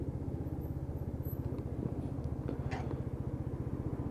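A Lexmoto Titan motorcycle engine idles steadily, its even, rapid low putter close and fairly quiet, with a few faint clicks and knocks on top and no talking.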